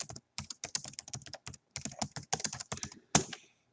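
Rapid clicking keystrokes on a computer keyboard while composing an email, arriving in quick bursts with brief pauses and ending on one louder key tap, with no talking.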